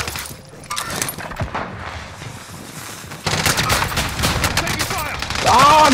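Gunfire from a multiplayer shooter video game, bursts of automatic shots crackling amid other shots, growing louder and denser in the second half, with players talking over it.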